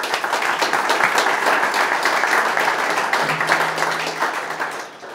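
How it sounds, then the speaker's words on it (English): Applause from a tech meetup audience for the organizers, steady clapping for about five seconds that fades slightly near the end. "I think a large round of applause for Chris and our entire team."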